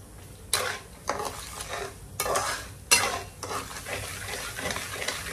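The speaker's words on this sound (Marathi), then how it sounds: "आता असं आपल्याला हलवत राहायचंय" A spoon stirs a gram flour (besan) mixture for laddoos in a pan over a full gas flame, sweeping in repeated scraping strokes with a faint sizzle, close and fairly loud.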